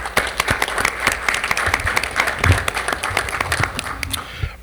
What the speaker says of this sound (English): They most definitely deserve a round of applause.